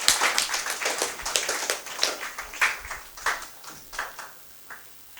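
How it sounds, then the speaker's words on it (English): Scattered applause from a small audience at a national heritage quiz final, a few people clapping in uneven bursts that gradually thin out and fade toward the end. "I think everyone should give them a big round of applause."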